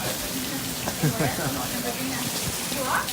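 Steady rain hisses onto the Appalachian Trail, a dense, even patter from start to finish, with faint voice-like sounds blending into the wash of drops.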